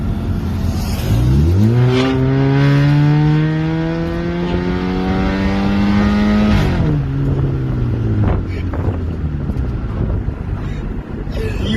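A Dodge Dart with its muffler deleted revs loudly: the engine note climbs sharply, holds a raw, droning pitch for several seconds, then drops back to a rumbling idle, with wind buffeting in the background.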